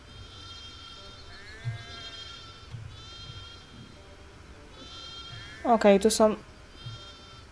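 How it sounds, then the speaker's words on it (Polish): Goats bleat in a pen in the fantasy game Gothic II, with short harmonic calls repeating through the clip and a loud burst near the end, heard beneath someone talking. "Serio nie można wejść do zagrody z kozami, bo się plujecie?"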